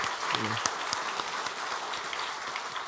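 A church congregation applauds during a Sunday service, a steady wash of clapping filling the hall at moderate level for the whole stretch, with a brief murmur of voices near the start.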